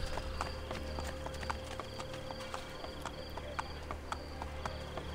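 Horse hooves clip-clopping in the video game Assassin's Creed: Brotherhood, a steady run of close hoofbeats over constant background ambience and music, with no talk.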